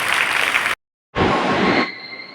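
Audience at a fire service week closing event clapping in applause, a loud dense burst of claps, a sudden silent gap, then another full round that fades under a lingering steady tone.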